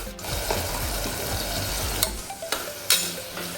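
Tomatoes and salt being stirred in a hot frying pan, with a steady sizzle and repeated scraping strokes of the spoon, close and fairly loud with a few sharper clinks near the end.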